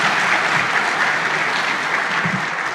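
Dense, sustained applause from a live audience for artist Michael Tamre at a motivational talk event, steady and loud throughout with no voices over it.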